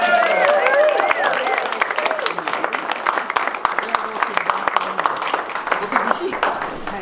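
A crowd applauding at an outdoor public gathering for a county aerial spray ban petition, with dense clapping that stays steady and close while voices and cheers mix in.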